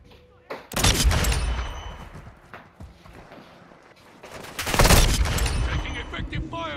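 Gunfire rattles in a military video game firefight, dense bursts of rapid shots swelling twice and close at hand, with radio-style voices talking over the shooting.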